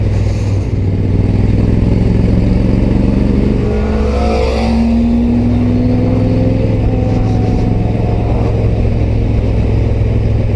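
A car drives past fast on a road as a motorcycle, an Africa Twin Adventure Sports, rides along, its engine a loud steady drone with rising and falling pitch as the car sweeps by.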